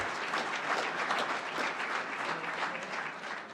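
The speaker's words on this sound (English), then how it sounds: "All right, another round of applause for Shadow Ridge." An audience at a school district governing board meeting gives a round of applause for a school team, a fairly quiet but continuous patter of many hands clapping for several seconds.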